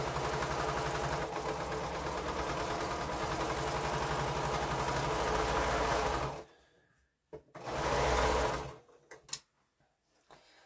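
A sewing machine runs steadily for several seconds, stitching quilt pieces together with a continuous close mechanical whir, then stops and gives one more short burst before a few faint handling clicks.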